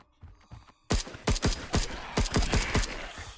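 Rapid gunfire from a weapon with a 22-round magazine in the Wandering in Space VR game, a burst of about a dozen sharp, loud shots in quick irregular succession after a quiet start.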